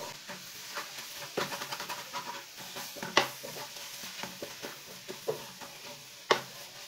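Carrot halwa with semolina being stirred in a pan, soft scraping and sizzling with scattered spoon clinks and a few sharper knocks against the metal, fairly faint.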